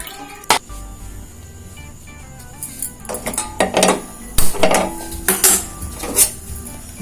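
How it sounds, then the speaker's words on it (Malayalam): Tamarind being strained into a pot for boiling in a home kitchen, with clinking metal utensils, knocks against the pot and trickling liquid in irregular bursts, close and fairly loud, with no talking. "ആദ്യം നമുക്ക് പുളി അരിച്ച് തിളപ്പിക്കാൻ വയ്ക്കാം."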